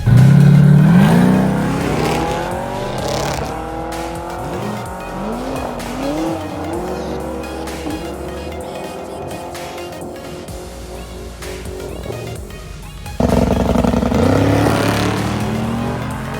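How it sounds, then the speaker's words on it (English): A GMC Jimmy race car with a supercharged LS engine and a new transmission makes a drag strip pass at Sick Week, opening with loud tire squeal, then a hard-revving engine climbing through gears, with a second surge near the end. "Now we have the GMC Jimmy from the Torx and Tungsten group."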